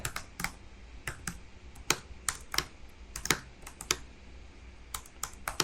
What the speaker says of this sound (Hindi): यहाँ पर मैं टाइप कर देता हूँ योर इंटरनेट